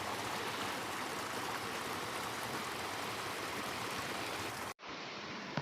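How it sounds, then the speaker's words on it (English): A river on a big game reserve flows steadily in front of a house, a dense continuous rush of water that fills the scene, cutting off abruptly near the end to leave a faint hiss. "Having a river in front of our house is definitely not something I'll ever take for granted, because I really do just love listening to it at night."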